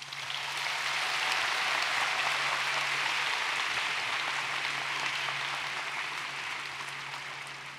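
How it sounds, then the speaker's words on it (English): A large crowd at a university business school graduation convocation claps continuously for several seconds, a dense, sustained wash of applause that swells early and tapers slightly near the end. "can we give your parents and all of your tribe a round of applause?"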